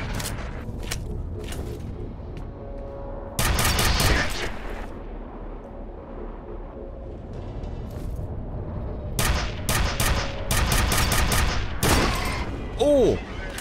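Bursts of automatic gunfire in the shooter game F.E.A.R., rapid volleys of shots in several clusters with quieter gaps of ambient hum between, close and loud.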